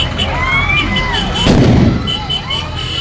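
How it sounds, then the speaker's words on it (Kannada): A firecracker bursts with a sharp boom amid a street procession for a state festival parade, heard over continuous crowd noise, whistles and nearby voices. "ಒಂದು ಪಟಾಕಿಯ ಸದ್ದು ಬಂತು."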